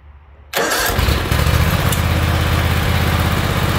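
A John Deere X324 lawn tractor engine catches and runs steadily at a loud, close idle, a continuous mechanical drone with no surging, alone without voices.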